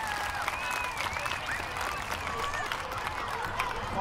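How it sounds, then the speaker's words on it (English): A crowd at a Sloatsburg Olympic Day opening ceremony applauds steadily throughout, an even wash of clapping with scattered whoops and voices mixed in. "Another round of applause."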